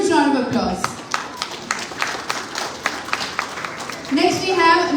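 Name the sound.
audience applause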